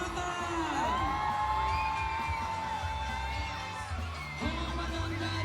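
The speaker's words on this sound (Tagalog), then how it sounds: "pwede bang marinig ang malakas na hiyawan at palakpakan?" A mall-show audience cheers with whoops and shouts over a continuous crowd roar, with music playing in the background. The noise stays loud and steady, dips briefly, then surges again.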